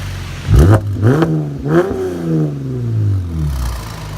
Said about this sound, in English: Xpipe muffler delete, baby. With those burnt tips.